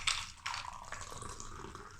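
Liquid from a mixed cocktail splashes and trickles into a glass in a brief, close pour lasting about two seconds, with no one talking.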